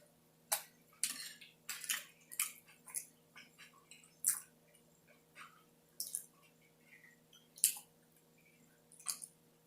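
Close, wet chewing of fried fish at a mukbang meal, with irregular crunchy and squishy bites and smacks recurring every second or so over a faint steady hum.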